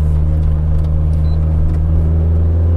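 A Mitsubishi Lancer Evo VI engine runs nearby with a loud, deep, steady throbbing drone, rich in low harmonics and held evenly for a few seconds, with no talking.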